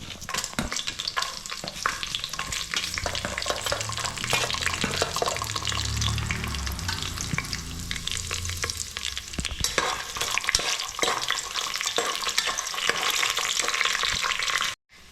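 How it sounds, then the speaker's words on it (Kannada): Grated coconut and dry red chillies frying in oil while being stirred in a pan, a loud continuous sizzle with constant scraping and rattling strokes throughout, close by and without speech, stopping abruptly at the end. "ಇದಿಷ್ಟನ್ನು ಹಾಕಿ ಒಂದು 15ರಿಂದ 20 ಸೆಕೆಂಡ್ ಗೂರಾಡ್ಕೊಂಡು, ಈಗ ಅದಾದಮೇಲೆ ಹಿಂದೆನೇ ಕೊಬ್ಬರಿ ಮತ್ತು ಒಣಮೆಣಸಿನ್ಕಾಯಿ ಹಾಕೊಳ್ಳಿ"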